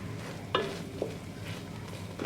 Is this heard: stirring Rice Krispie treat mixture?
yes